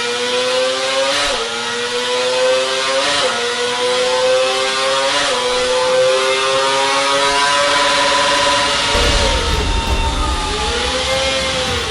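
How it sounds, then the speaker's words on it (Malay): A Kawasaki 250cc four-cylinder motorcycle engine with a four-outlet exhaust manifold revs repeatedly, rising to high-pitched wails and dropping back, close and loud with no talk. "dia mengeluarkan bunyi yang sangat mengasyikkan tuan-tuan"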